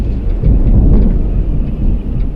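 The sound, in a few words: big deep low thunder in the distance, film sound design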